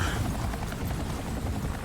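Helicopter in Resident Evil 4 Remake, a steady low rotor rumble and broadband whir holding level throughout with no talk over it.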